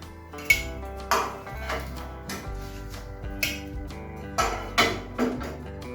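Fried brinjals being lifted from hot mustard oil in a home kitchen, with sharp metallic clinks and taps of utensils against a pan at irregular intervals over a faint sizzle, and no speech.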